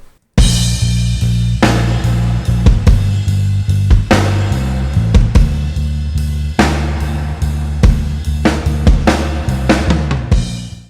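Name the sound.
bass guitar line playing with drum kit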